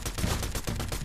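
Sniper gunfire in the video game Fortnite, a dense stretch of repeated shots and crackling blasts packed close together, loud and continuous throughout with no talk over it.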